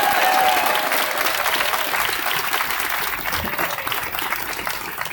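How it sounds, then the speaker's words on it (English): Loud, dense applause from a gun control rally crowd in Carlisle, sustained across the whole stretch and easing slightly toward the end, with no speech over it. "give them a round of applause for the work that they're doing"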